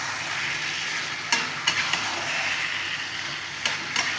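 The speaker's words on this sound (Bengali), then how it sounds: "এখন আমি ম্যারিনেট করে রাখা চিকেনটা এর মধ্যে দিয়ে দিলাম" Marinated chicken tossed into oil-slicked spice paste for chicken kasha fries with a steady close sizzle, punctuated by a few sharp scraping stirs of the spatula.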